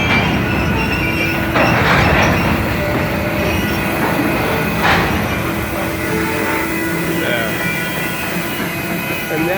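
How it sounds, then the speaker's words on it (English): Freight train of hopper cars rolling past at a cola plant, a steady loud rumble of wheels on rail with clanking and brief squeals throughout, close by and continuous. "But here comes all the other hoppers."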